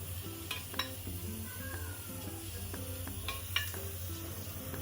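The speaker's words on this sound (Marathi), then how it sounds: "आता आपण ग्रेव्हीसाठी मसाला भाजून घेऊ" Masala roasting in a pan for mutton gravy, a low hiss of sizzling oil under a series of short tonal clinks and scrapes from a utensil working against the pan, fairly quiet and close.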